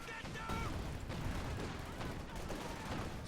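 An incendiary artillery barrage in the game Company of Heroes 2 rolls on as a dense, continuous roar of blasts and crackling fire, with no clear gaps between impacts.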